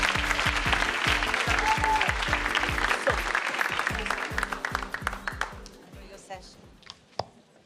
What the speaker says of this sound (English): A big round of applause for Meera.